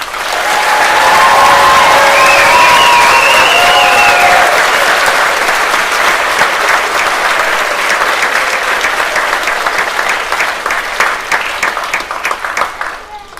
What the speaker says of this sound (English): let's give a round of applause to the class of 27.